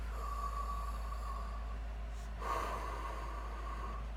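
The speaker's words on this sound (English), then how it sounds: "let's do one breath" A single deep, slow breath taken during a morning yoga practice, soft and close, heard alone over a steady low hum.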